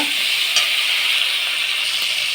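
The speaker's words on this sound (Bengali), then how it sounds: "তো মশলাটা ভালো করে কষিয়ে নেব বন্ধুরা" Spice paste with turmeric sizzles hard in hot oil for a pointed gourd curry, a loud, unbroken hiss heard up close with one faint knock of stirring.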